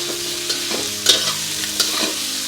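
Devilled tofu with chili being stirred and mixed in a hot pan, with a loud continuous sizzle and a few sharp scraping strokes of the spatula, close up and with no voices.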